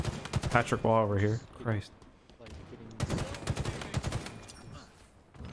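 Rapid bursts of video-game gunfire crackle through a multiplayer match, dense at the start and again in the second half, with players talking over the shots.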